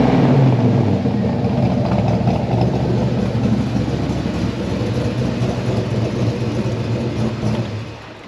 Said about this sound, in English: Give her a rev, Foss.